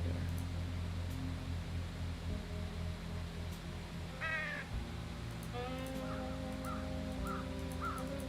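Birds caw in the video game Trüberbrook, several short harsh calls coming one after another over a steady low ambient hum, moderately close and with no talk.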